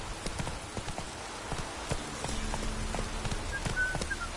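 Hooves of Roach, the horse in The Witcher 3: Wild Hunt, clip-clop in a steady trotting rhythm, close and clear over a soft background hiss.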